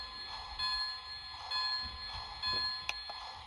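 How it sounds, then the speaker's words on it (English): The bell of a Lionel HO Nickel Plate fast freight model train set rings as a repeated electronic ding. It strikes in a steady rhythm, close and moderately loud, with faint mechanical noise beneath and no talking. "This also controls your bell"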